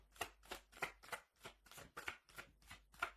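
Tarot cards shuffled by hand in roughly ten quick, evenly spaced riffling bursts, each a crisp papery flutter, close and moderately loud with no talking.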